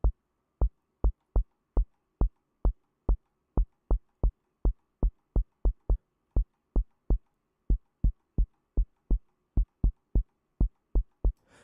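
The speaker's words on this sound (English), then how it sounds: "So we're going to do a low pass, and we're going to kind of blend it into our actual kick sound." Synthesized kick drum built in Reaktor with a low-pass filter blended in, thumping as a steady train of evenly spaced deep hits, each short and punchy, alone with no talk.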